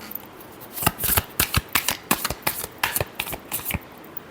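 Tarot cards shuffled by hand, a quick run of crisp riffling snaps in a steady rhythm, close and clear with no talk.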